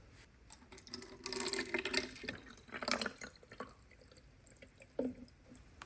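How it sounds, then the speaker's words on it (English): Water is poured into a container resting on a digital lab scale, giving soft splashing and trickling in irregular bursts. The sound is faint and close, with a final small splash near the end. "I'm just gonna go ahead and put water."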